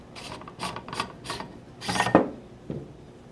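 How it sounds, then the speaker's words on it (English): The barrel is removed from a US Army Project Salvo rifle, with a series of rhythmic metallic scraping and rubbing strokes close up, then a louder grinding pull and a final small click. "We're first going to start off by removing our barrel"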